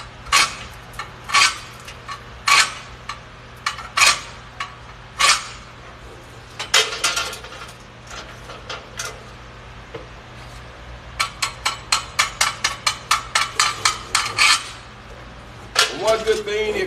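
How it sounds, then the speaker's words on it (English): A scraper chips slag off a welded steel plate in sharp metallic clinks and scrapes, first in scattered strikes and then in a quick rapid run near the end. "let me clean this plate out"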